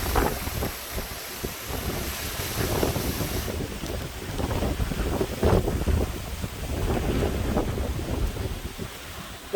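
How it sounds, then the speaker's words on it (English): Hurricane Ian winds buffet a coastal shoreline near a fishing pier, a loud continuous broadband roar of gusts hitting the microphone, swelling and easing without pause. "This is a serious, serious hurricane."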